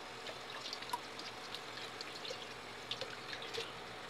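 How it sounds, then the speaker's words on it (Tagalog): Hot water is poured over eggplant, making a soft, continuous splashing trickle with a few faint drips, quiet and close. "Hot water nga pala yung ginagamit ko niyan guys, para naman itong talong natin hindi maitim."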